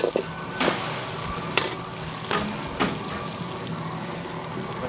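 Tomatoes go into a hot frying pan for a dried fish and brinjal kuzhambu, with a steady close sizzle of oil and a few louder bursts and scrapes as the pan is stirred.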